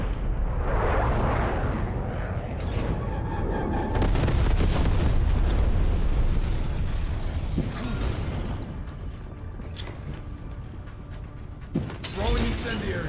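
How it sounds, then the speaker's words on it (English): A napalm strike in Call of Duty Cold War sends out a long, roaring rush of explosive booms and crackling fire, loudest early on and then thinning into scattered sharp cracks and bangs, with game voices speaking over it. "Enemy napalm strike incoming."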